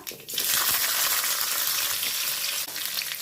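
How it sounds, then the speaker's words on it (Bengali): Black cumin seeds and chillies drop into hot oil, bursting into a loud, close, sustained sizzle that holds steady with a brief dip near the end. "তেলের মধ্যে দিয়ে দেবো কালো জিরে আর লঙ্কা"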